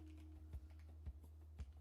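Keystrokes on a computer keyboard during a late-night live session posing and lighting a character in Houdini: a few soft, evenly spaced clicks, faint over a steady low hum.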